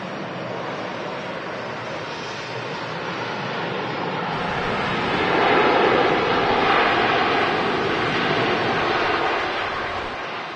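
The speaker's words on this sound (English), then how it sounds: "And touchdown from Orlando." Virgin Atlantic Airbus A350 airliner touching down at Manchester Airport after a flight from Orlando, a loud sustained broadband engine and reverse-thrust roar that swells in the middle and slowly eases, with no voices.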